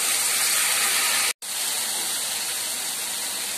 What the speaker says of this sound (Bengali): এবার এই গরম তেলের মধ্যে আমি দিয়ে দেব লতিগুলো